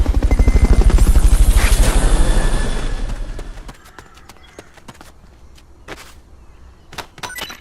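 The Fulton recovery helicopter in the video game Metal Gear Solid: Peace Walker thumps loudly with rapid rotor beats, then fades out quickly, leaving scattered soft clicks and taps.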